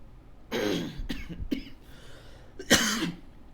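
A few harsh coughs in a row, close up: a strong burst, two shorter ones, then a pause and a final loud cough.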